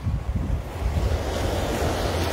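Sea surf rolling onto the beach at Tajpur near Digha, a loud continuous wash of waves with heavy wind buffeting the microphone.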